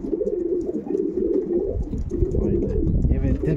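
Racing pigeons coo in a breeding loft, low soft cooing running steadily throughout, with people talking nearby.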